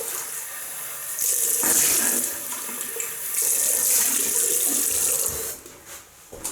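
A bathroom tap runs water into a sink for rinsing after a shave with sandalwood shaving soap. The splashing stream surges and eases, then tapers off near the end, with a brief voice underneath.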